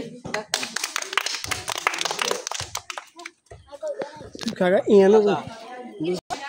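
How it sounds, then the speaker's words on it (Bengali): A short burst of scattered hand clapping from a small group at a children's food challenge game, followed by children's voices and chatter. "সবাই হাততালি"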